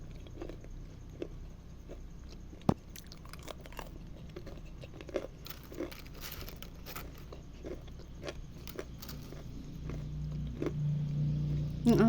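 Someone chews crunchy homemade banana chips close up, making quiet, irregular crisp bites and crunches over soft background noise, with no talking.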